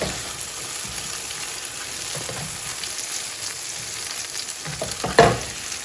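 French toast sizzles steadily in an Anolon frying pan, a continuous close crackling hiss with a few louder spatters near the end and no talk.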